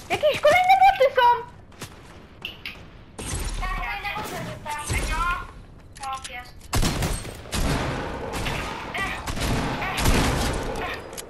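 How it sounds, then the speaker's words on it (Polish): Gunfire in a multiplayer shooter game, sharp bursts of shots and scattered cracks breaking out in the second half, mixed with excited player voices talking over the action. "Ej, no strzela ktoś!"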